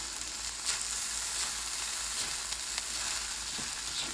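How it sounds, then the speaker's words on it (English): House special fried rice with pepper sizzles steadily in a pan as it is stirred, a constant close frying hiss with faint scraping and no talking. "we'll add a little bit of pepper. I'll give that a stir."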